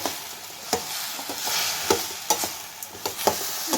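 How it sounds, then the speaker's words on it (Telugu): Spices and vegetables fry in a pan for drumstick, brinjal and potato sambar, a soft steady sizzle broken by sharp, regular scraping clicks of a spoon stirring against the pan. "బాగా ఫ్రై అవుతా ఉందండి"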